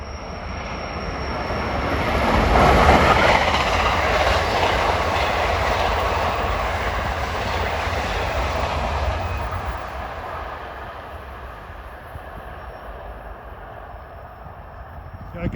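New York-bound deadhead train with an ALP46 electric locomotive shoving on the rear, passing at speed through Rahway on a wintry evening, a loud rushing roar with clattering wheels that swells, then fades into a steady distant rumble.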